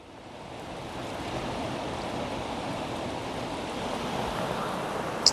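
Steady water pouring and rushing out of a spigot at the bottom of a water storage tank, a continuous broadband splash that swells slightly at the start and holds evenly.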